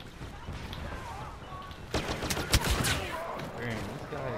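Rapid bursts of gunfire in a shooter video game, a dense volley erupting about halfway through over a busy background of game sounds, with a voice talking early on.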